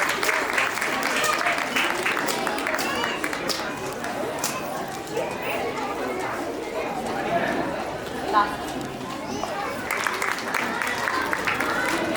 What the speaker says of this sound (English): A huge cheer to Sidra, Arif and Labiba from Maharashtra